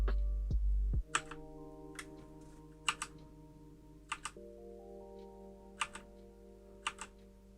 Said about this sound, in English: the Machenike K500 wired mechanical hot swappable keyboard